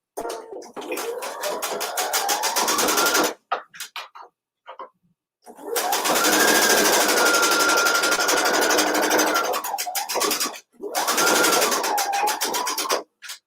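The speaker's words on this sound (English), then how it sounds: "I'm going to start sewing again, leaving a 2-inch opening" A home sewing machine runs in long steady bursts as it stitches fabric along a tube, with a couple of short pauses and quick restarts between runs.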